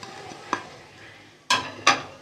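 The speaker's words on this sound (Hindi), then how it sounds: "इसको अच्छे तरीके से कर लेंगे मिक्स।" Spices with brown sugar, black pepper and salt being stirred into softened tomatoes for pizza sauce, a low simmering sizzle broken by three scraping stirs of a spoon against the pan, the last two louder and close.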